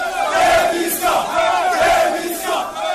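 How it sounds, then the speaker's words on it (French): Crowd of trainees staging a mock street demonstration during a police training exercise at a national police school in Togo, loud massed chanting and shouting in repeated surges, with no other talk. "On se croirait dans une manifestation de foule, dans une ville ou une localité du Togo"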